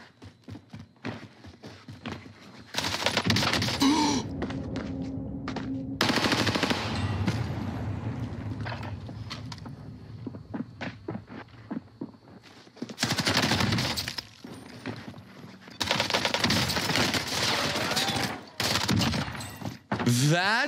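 Automatic gunfire from Call of Duty: Warzone on Rebirth Island, loud bursts of rapid shots arriving in several separate volleys with quieter gaps between, and a voice talking at points.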